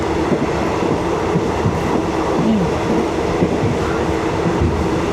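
Steady rumble of a train carrying passengers toward Penang, with broadband rolling noise and faint rhythmic wheel clatter throughout, loud and continuous with no voices.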